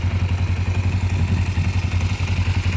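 A motorcycle engine with an internal knocking fault idles with a steady, rapid knocking and clattering rhythm, loud and close, with no voices.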